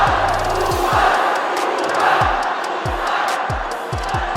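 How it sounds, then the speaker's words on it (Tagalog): An arena crowd at a professional basketball game roars with sustained loud shouting and cheering, a dense wash of voices with scattered whoops and sharp bursts layered on top throughout. "Hiyawan nga dyan ang buong crowd sa arena sabay sigaw ng kupal"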